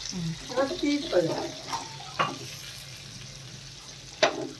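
Fish frying in oil in a pan at home, a quiet crackling sizzle with a few clinks and scrapes, close by, and a voice murmuring faintly underneath.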